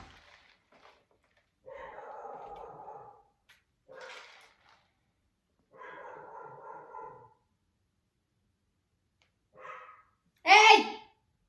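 A dog at home barks at someone outside in several short bursts separated by pauses, ending in a louder, sharper yelp, fairly close and with no speech alongside.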